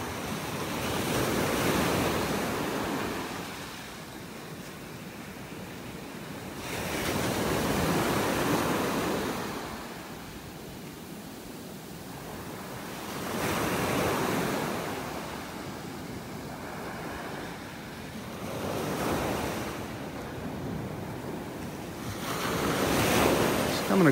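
Ocean surf breaks on a beach in North Naples, Florida, waves swelling and washing ashore every few seconds in slow surges, with wind buffeting the microphone in between.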